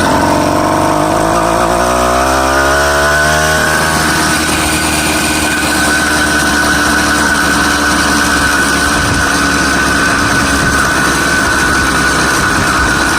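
A small 66/80cc motorized bike engine with a quiet sleeper exhaust mod revs up quickly, then holds a loud, steady buzzing drone with a rough exhaust note as it rides along.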